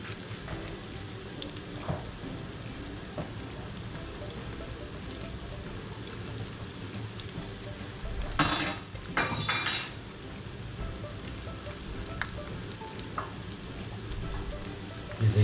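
Mutton chops frying in a pan over medium heat, a steady faint sizzle and crackle throughout, with a brief louder spatter burst near the middle.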